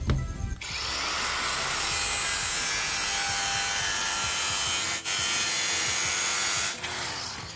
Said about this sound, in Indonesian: Ini yang kita garis ini pada bagian tengahnya ini kita potong terlebih dahulu.